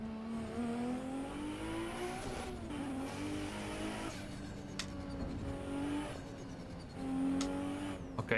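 Race car engine in Assetto Corsa EVO, a continuous high revving whine that rises and falls through gear shifts, with occasional sharp tyre squeal and skid bursts and no voices.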